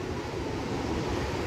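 Ocean surf washing onto a beach beside a patio, a steady broadband rush of waves with some wind noise, continuous and fairly close with no talking.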